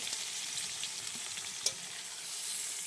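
Pieces of young jackfruit, boiled earlier with salt, fry lightly in a pan until reddish, giving a soft continuous sizzle with one small utensil click partway through.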